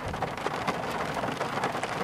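A heavy, sudden evening downpour with thunder about hits a highway parking area in Ehime, Shikoku, in April. It makes a dense, even roar of rain striking surfaces, close and constant with no voices.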